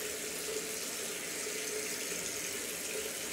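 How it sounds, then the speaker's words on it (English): Water runs steadily from a tap into a sink while a shaving brush is rinsed under it, a constant close hiss with no speech. "Rinse out my brush."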